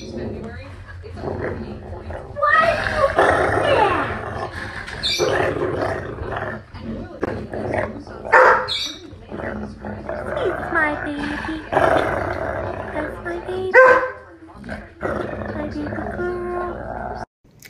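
A dog barks and growls close by in loud, irregular bursts mixed with whining and roaring snarls, while people talk over and between the noises.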